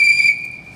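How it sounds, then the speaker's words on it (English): A swim teacher's whistle blown at a pool: one short, shrill, steady blast, close and fairly loud, cut off abruptly. "Whenever you hear myself blow the whistle"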